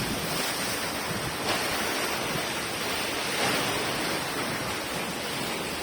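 Ocean waves wash in a broad, continuous roar, with a couple of surges swelling louder, mixed with wind buffeting the microphone.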